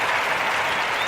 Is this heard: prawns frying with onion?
no